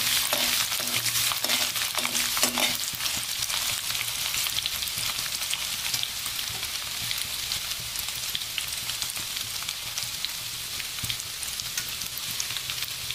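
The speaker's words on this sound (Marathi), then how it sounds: "आता यामध्ये मी टाकते लसूण आणि आलं बारीक चिरलेलं आहे। थोडेसे हे तळून घेते।" Finely chopped garlic and ginger fry in a pan for veg Hakka noodles, a loud continuous sizzling hiss like heavy rain, with a few stirring knocks at the start and no talking.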